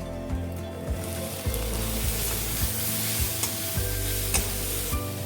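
Onions fry in a pan with soy sauce for chilli soyabean, a loud continuous sizzle broken by regular scraping stirs of a spatula, close up with no voices.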